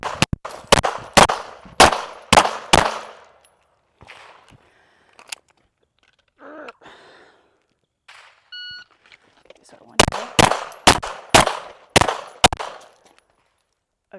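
Pistol shots fired during a USPSA practice drill, coming in quick sharp bursts of four to six rounds at the start and again near the end, with a quiet stretch of light movement and faint talk in between.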